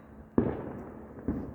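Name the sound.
small ground fireworks going off at night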